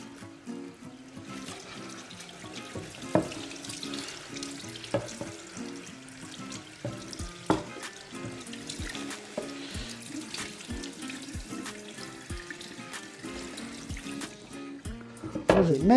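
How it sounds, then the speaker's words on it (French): Salmon rinsed under a running kitchen tap, a steady close splash of water into a sink with small irregular knocks from handling, lasting throughout with no talk. "Voilà, un petit coup d'eau."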